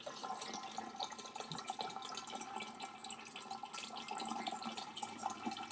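Water running steadily through a home water system, a continuous hissing, splashing flow that stays at an even level throughout, with no voices.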